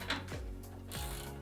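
Ratchet wrench clicking while an igniter is swapped out on a Whitfield or Montage pellet stove, a close mechanical rattle of rapid clicks with two slower grinding strokes and no talk.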